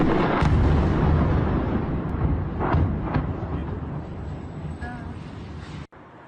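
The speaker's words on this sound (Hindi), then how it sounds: "क्रेन से टकराने के बाद जोरदार धमाका होता है।" A drone strikes a construction crane in Moscow and explodes, a loud blast followed by a long rumbling roar and several sharp secondary bursts that gradually fade before cutting out.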